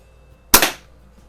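A single sharp shot from a Daisy BB gun, either the No. 101 Model 36 or the Model 102, rings out loud and close with a brief decaying tail, alone with no talk.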